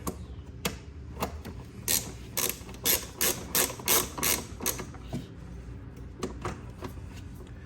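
A ratchet tightens the bracket of a Corsa Performance catch can on a 2021 Ram 1500 in a burst of sharp, rapid clicks, with a few isolated clicks before and after the main run.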